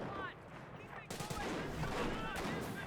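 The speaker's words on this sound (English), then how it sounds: "Here comes 25 pounder." A 25-pounder artillery barrage in Company of Heroes fires as dense, continuous booms and crackling gunfire that surge in loudness partway through, with a voice talking underneath.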